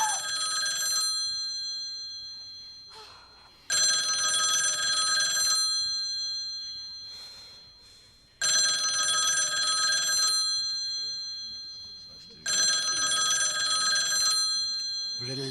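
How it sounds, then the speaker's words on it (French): An old-style telephone bell rings in four long loud bursts with short silent gaps, rising over a quiet room where a few faint voices murmur between rings. "Vous allez le décrocher, ce téléphone?"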